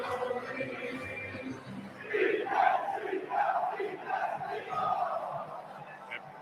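A stadium crowd of Philadelphia Eagles fans sings a song before a Sunday Night Football game against the Dallas Cowboys, a broad, swelling roar of many voices chanting in rising waves.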